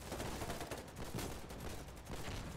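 Gunfire trades back and forth across a front line in Foxhole, rapid overlapping shots and bursts forming a steady, distant-sounding barrage with no voices over it.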